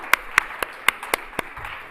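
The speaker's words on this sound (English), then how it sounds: "Let's have a round of applause for the Bronxville Tuckahoe girls varsity" Sparse claps for a girls varsity swim team at an awards ceremony, a few separate sharp hits spaced unevenly, fairly faint in a quiet room.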